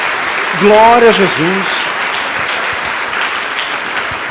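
A church congregation applauds, a steady broad wash of clapping that fills the whole stretch while a voice rings out loudly over it near the start.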